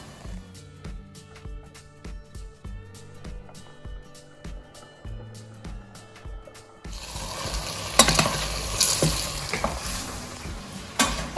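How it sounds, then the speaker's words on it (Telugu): Eggplants drop onto half-fried onions in a pan, first with rhythmic scraping and stirring clatter, then a sudden louder burst of sizzling frying that swells and stays close and strong. "ఇప్పుడు ఇందులో వంకాయలు వేసేసుకుందాం."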